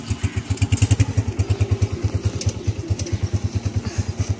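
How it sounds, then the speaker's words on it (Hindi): Honda motorcycle engine running with a steady, rapid thumping pulse, loud and close, the rhythmic beats continuing evenly throughout without speech over it. "अब होंडे की आवाज़ आ रही होगी"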